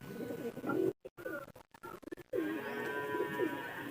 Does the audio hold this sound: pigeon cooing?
yes